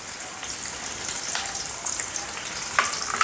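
Green chilli, garlic and ginger paste frying in a little oil in a kadhai, a loud continuous hissing sizzle with a few faint clinks of a spatula, no talking.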